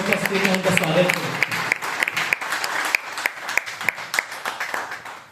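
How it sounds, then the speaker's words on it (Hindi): An audience at a Hindi poetry recital on women applauds to welcome the women present. Loud, dense clapping fills the space, with a brief murmur of voices at the start, and it gradually thins and fades. "सबसे पहले एक शानदार तालियों की गूंज से उन महिलाओं को जो हमारे बीच उपस्थित हैं उनका स्वागत करें"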